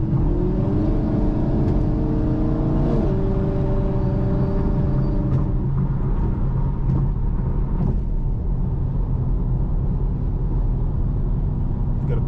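A Chevrolet Camaro SS muscle car cruises along, its engine giving a steady low rumble with a brief rise in revs early on, heard from inside the car at moderate loudness.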